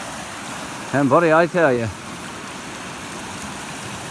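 Steady rushing water streams from Charlie's Pond after a dam removal and habitat restoration, a continuous broadband wash running throughout while someone briefly speaks over it near the start.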